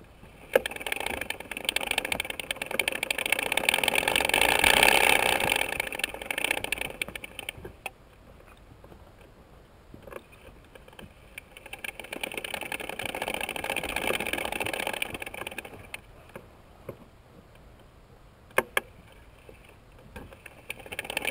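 Honda TRX450R ATV engine droning as the quad is driven, swelling loud for stretches and dropping to a lower idle-like rumble between, with wind-like broadband noise and a few sharp knocks, no talking.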